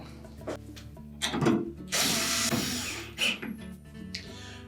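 A power drill runs in short bursts, driving short screws into a Whirlpool washer tub during a bearing replacement, with whirring spurts, pauses and light scraping between them, close by and without speech.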